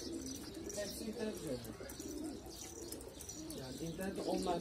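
Pigeons cooing in a busy neighbourhood street, soft repeated coos and chirps mixed with people talking nearby and general outdoor bustle.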